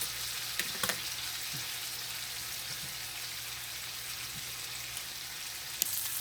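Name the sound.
T-bone steaks cooking slowly in a pan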